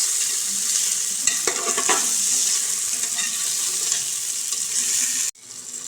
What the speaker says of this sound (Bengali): এবার টমেটো কুচিটা দিয়েও একটু নাড়িয়ে নেবে, টমেটোটা একটু নরম হয়ে যাবে